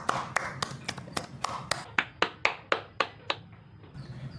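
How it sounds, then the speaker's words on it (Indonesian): Classroom clapping in a junior high school lesson: a few people clapping, then a single pair of hands delivering about a dozen sharp, evenly spaced claps close by, ending in quiet. "Tepuk tangan untuk kita semua."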